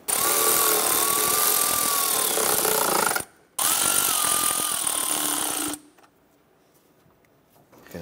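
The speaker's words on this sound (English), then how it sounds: "Let's get our intake tube installed. Let's tighten up our clamps." A power tool tightens the intake tube clamps on a 2008-2012 Honda Accord during a starter replacement. It gives two close whirring bursts of about three seconds each, split by a brief gap, then falls quiet.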